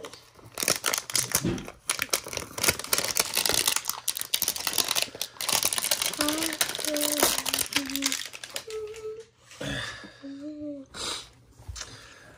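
A clearance pack's plastic wrapper is crinkled and torn open up close, a string of sharp rustling rips, while voices, including a child's, talk over it.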